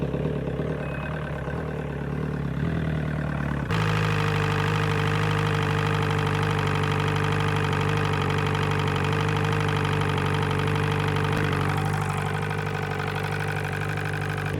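An outboard motor fitted with a new water pump starts up and runs on water muffs, a loud steady idle with a constant hum after a brief rougher start, no voices.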